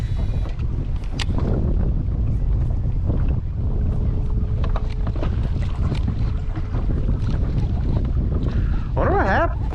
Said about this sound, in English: It's that wind, man.